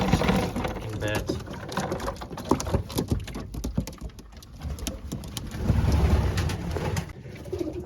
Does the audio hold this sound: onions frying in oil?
no